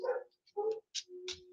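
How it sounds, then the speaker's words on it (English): Several dogs bark in short, sharp bursts from upstairs, a few quick yips and barks heard alone at moderate distance. "sorry if you hear the dogs going off upstairs."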